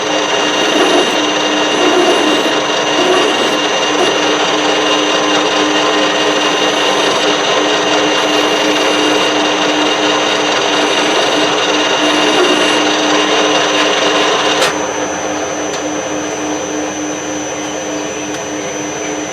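A metal lathe breaks the edges of an ER32 collet holder with a high speed steel tool, a loud, steady machining whine and hum that drops to a quieter idle near the end.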